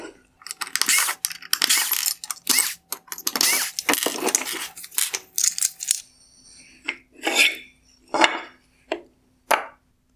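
T15 Torx screws being backed out of the black bezel on a Tesla Model 3 LED fog light, with close, rapid ratcheting clicks and metallic rattles, then slower separate clicks and taps.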